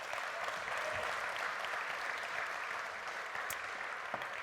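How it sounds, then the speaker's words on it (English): A conference audience applauds the speaker Tiffany in a steady wash of clapping from a crowd that continues throughout, a little distant and even in level. "Round of applause for Tiffany"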